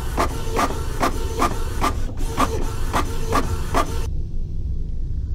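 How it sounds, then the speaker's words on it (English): A printer in a mansion video game prints a key, giving about nine evenly spaced mechanical clunks under a steady hiss, then stopping abruptly into near silence. "Does it just print like a 3D printer?"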